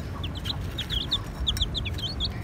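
Young chicks, feathers just coming in, cluck and cheep in a quick scatter of short high calls over a low rumbling background, close by and fairly busy throughout.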